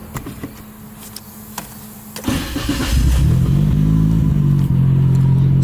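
After some light clicks and a whirring crank, a Nissan R34 GTR engine catches and fires up, settling into a loud, steady rumbling idle close by.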